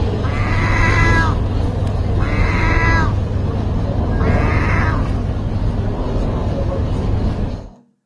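Birds imitating cat meows at a cat food vending machine in Turkey: three drawn-out, wavering meow-like calls a second or so apart over a constant low background hum.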